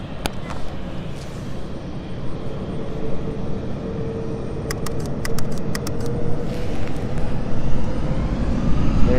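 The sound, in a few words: passenger plane taking off at London City Airport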